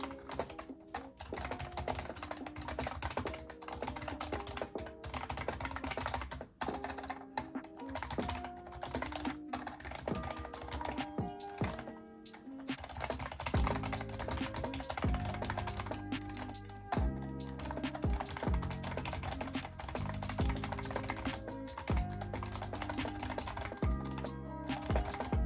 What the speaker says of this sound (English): So to be honest, the keyboard actually looks really clean and it doesn't sound too bad.